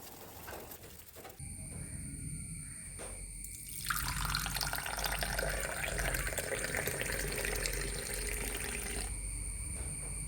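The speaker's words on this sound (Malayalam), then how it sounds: "അരിച്ചെടുക്കുക." Strained turmeric ginger tea with jaggery and cinnamon pours in a thin steady stream into a cup, a liquid trickle that swells to a fuller rushing pour, then eases back, with no one speaking.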